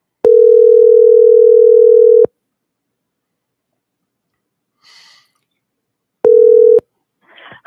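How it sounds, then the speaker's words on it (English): A telephone dial tone holds steady and loud for about two seconds and then cuts off. After a long silence come a few faint keypad tones, then a shorter burst of the same tone and brief breathy noises. "Let me call this number again."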